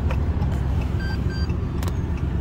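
Car engine idling just after starting, a steady low close hum with faint intermittent electronic beeps on top.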